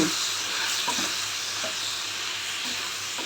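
Spinach and spices fry in a hot pan for palak paneer, giving a steady, close, loud sizzle and hiss with faint scrapes and clinks of stirring, and no voices.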